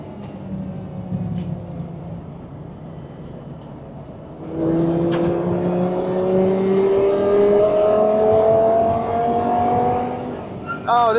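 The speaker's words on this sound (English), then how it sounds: "Those downshifts, the noises, so visceral," Audi R8 LMS Ultra race car on track, engine droning at first, then climbing loudly through a long rising rev with sharp downshift blips near the end, heard from inside the car.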